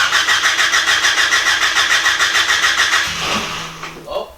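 A Honda Civic EG engine cranks with a steady, rhythmic starter whir for about three seconds, then catches and fires into a rough idle with a brief rev, loud and close.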